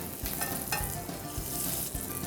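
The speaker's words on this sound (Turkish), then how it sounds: "Şöyle çok azıcık tereyağı koyuyorum." Butter sizzles and crackles steadily in a hot pan while künefe is being made, a continuous close frying hiss with small pops throughout.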